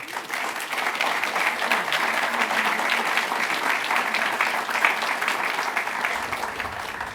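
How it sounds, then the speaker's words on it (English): Audience applause at a train station dedication ceremony, a sustained wash of clapping from a sizable crowd, steady and moderately loud throughout without speech. "it deserves our loudest applause"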